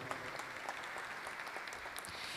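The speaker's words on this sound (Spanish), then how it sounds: "También un fuerte aplauso, por favor." Steady audience applause fills an event hall at a public policy forum on addiction prevention, a dense wash of many hands clapping at even volume throughout, heard from a moderate distance with no talk over it.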